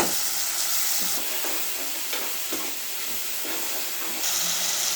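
A salted tomato curry is stirred in a pan, with a steady close sizzle and hiss and occasional soft scrapes of the spoon.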